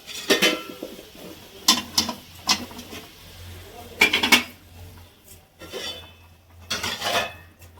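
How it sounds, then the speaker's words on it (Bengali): Poppy seeds being fried and stirred in a pan, heard as a series of close, loud metallic scraping strokes from a spatula against the pan, arriving in irregular bursts with short quiet gaps between. "পোস্তটাকে ভেজে নিই।"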